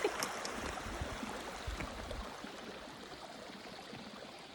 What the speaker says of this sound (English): Nice little creek coming into